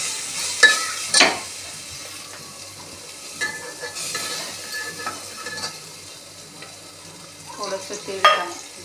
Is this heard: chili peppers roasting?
yes